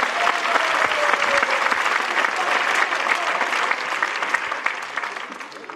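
A theatre audience claps continuously for a Macedonian stand-up comedy act, dense and even applause filling the room from start to finish with a slight fade near the end.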